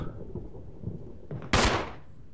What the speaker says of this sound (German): der Donner jetzt